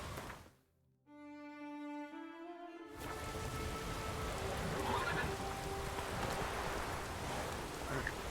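Roach, a horse in The Witcher 3: Wild Hunt, gives one loud, close whinny with a falling pitch, followed by steady rain pattering on the ground.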